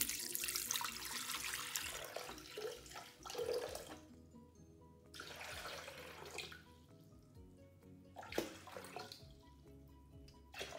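Water from a tap pours into a Thermomix bowl for a baghrir crêpe batter, a steady splashing stream that rises and falls over several seconds with brief pauses, no talking.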